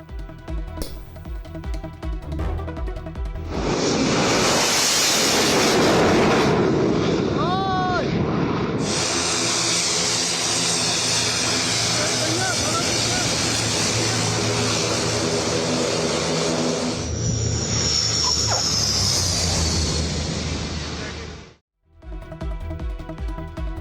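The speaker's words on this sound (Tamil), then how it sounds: "போர் விமானங்கள் மற்றும் ஹெலிகாப்டர்களை தரையிறக்கி ஒத்திகை பார்க்கப்பட்டது" Loud roaring engines of fighter jets and helicopters landing build and sustain for many seconds, with a whining turbine tone, then cut off abruptly near the end.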